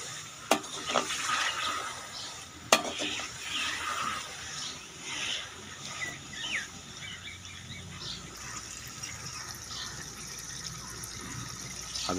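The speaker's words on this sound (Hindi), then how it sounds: "इसको अच्छे से मिक्स कर दें।" Bajra haleem being stirred and mixed in a pot, a soft wet scraping and sloshing with a couple of sharp knocks near the start, fairly quiet and without talk.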